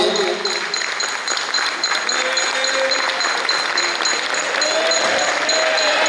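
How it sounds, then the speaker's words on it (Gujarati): A crowd at a Shrimad Bhagavat Katha gathering in Vrindavan breaks into loud, sustained applause to welcome a guest, a dense, even wash of many clapping hands lasting several seconds. "જોરદાર તાળીઓના ગડગડાટથી સાહેબ વધાવીએ"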